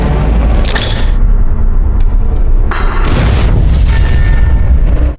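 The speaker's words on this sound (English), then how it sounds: "A deafening explosion tore through the air" A loud, deafening grenade explosion flips a car, roaring with a sustained booming rumble and crackling debris, filling the whole stretch before cutting off abruptly.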